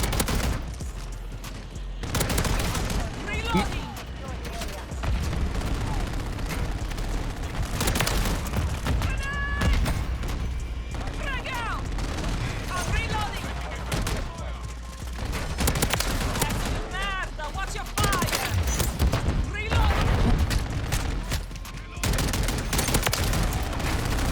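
A Riveter shotgun fires again and again in Call of Duty: Modern Warfare III multiplayer, with dense booming blasts and clatter running throughout amid constant game noise and bursts of other gunfire.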